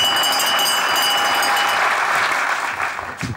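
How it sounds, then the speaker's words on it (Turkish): A crowd applauds steadily, dense clapping filling the room, then tapering off near the end. "Alkışlar."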